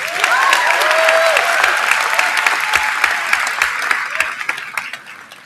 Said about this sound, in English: Liam's not here, but let's give him a round of applause.